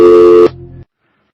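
A loud, steady electronic telephone tone sounds after the receiver is put down, then drops to a softer lower hum and cuts off abruptly into silence.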